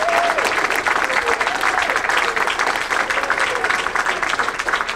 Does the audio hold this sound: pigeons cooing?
no